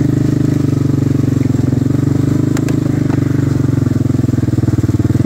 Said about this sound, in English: I'm really hoping that the four-wheeler's making enough noise they don't shoot